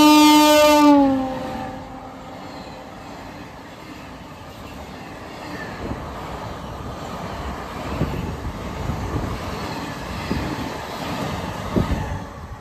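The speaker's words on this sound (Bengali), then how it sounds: "এটা হচ্ছে ভদ্রক, হাওড়া ভদ্রক বাঘাযতীন এক্সপ্রেস।" The Howrah–Bhadrak Baghajatin Express passes Ghoraghata station: a loud horn blast opens, then the rumble and rhythmic clatter of wheels over rail joints builds and continues steadily close by, with no talking.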